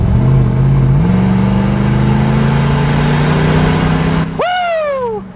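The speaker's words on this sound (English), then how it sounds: "These are exhaust cutouts for the GX470's exhaust." A Lexus GX470 SUV with Spelab exhaust cutouts open drones steadily, steps up in pitch, then snaps into a sharp rev that rises and falls with a crackling rasp.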